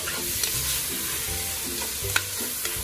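Small tomatoes cut into quarters are stirred into a simmering mussel and ginger soup in a pot, giving a steady close sizzle with soft scraping stirs and a few light clinks, no voices.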